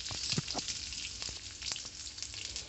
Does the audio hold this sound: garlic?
yes